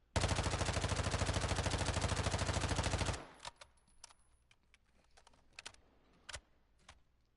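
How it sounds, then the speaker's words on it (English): Full-auto weapon fire in the video game Call of Duty DMZ: a fast, even burst of rapid shots for about three seconds, then a few scattered quieter clicks and distant pops. "now we're going to start shooting with the weapon. And figuring out how it feels in full auto"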